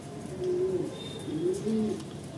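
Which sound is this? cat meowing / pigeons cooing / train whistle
pigeons cooing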